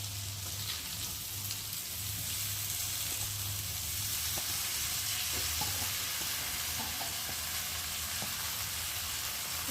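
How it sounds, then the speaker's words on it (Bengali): Broken wheat and lentils are stir-fried in spiced oil with ginger and cumin paste for a vegetarian khichdi, giving a steady close sizzle throughout with light scraping and stirring taps, and no voices. "এখন এই যে ডালিয়া আর ডালটাকে দিয়ে ভালো করে একটু কষিয়ে নিই"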